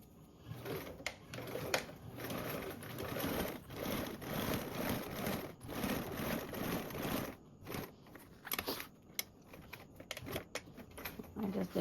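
Sewing machine stitching and back-tacking a seam on a canvas tote bag, a busy, steady mechanical whir with dense rapid needle clatter running throughout at close range, with a few brief pauses.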